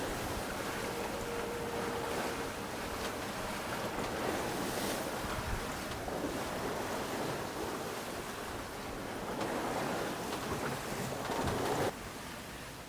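Waves wash and surf rolls off the Balearic coast as wind buffets the microphone aboard a sailboat, a continuous moderately loud roar with gusts swelling and easing.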